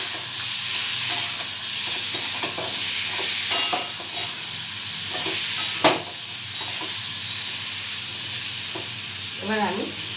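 Frying food sizzles steadily in a pan with a pinch of turmeric while a utensil stirs and scrapes in several clear strokes. A brief voice is heard near the end.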